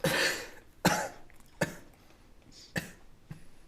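Five separate coughs, one after another with pauses between, the first two strongest and the later ones softer.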